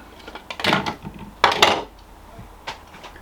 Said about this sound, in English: So then we're just going to press the unlock. And let's open this up and take the pot out